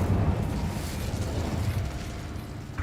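Fiery spell blast from Hogwarts Legacy, a loud roaring burst that sustains as a rumbling crackle for a few seconds, with another sharp burst at the very end.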